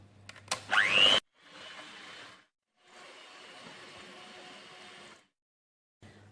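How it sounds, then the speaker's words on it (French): Electric mixer beating eggs and sugar for a simple chocolate cake, a steady whirring drone in two stretches with a short pause between, preceded by a brief loud clatter. "je continue à battre jusqu'à ce que le mélange triple de volume et blanchit"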